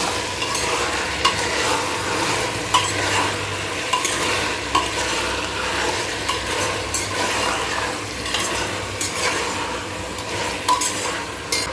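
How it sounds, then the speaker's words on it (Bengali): Chicken is stirred into a Bengali chicken curry in a single pot, with a steady sizzle under repeated scraping and clinking of the spoon against the pot, heard close and continuous throughout. "ভালো করে একটু নাড়বো।"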